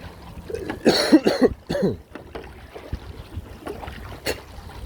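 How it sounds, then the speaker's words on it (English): A person coughs several times in a close, harsh cluster, followed by a quieter cough and some breathing. "As you can hear, I've got a bit of a cough."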